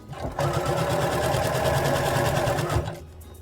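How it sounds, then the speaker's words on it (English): A sewing machine runs steadily, stitching along a hoodie seam toward a marked point, with a continuous loud whirring motor and needle rhythm for about two and a half seconds before stopping. "And now I'm going to sew until I get to the dot."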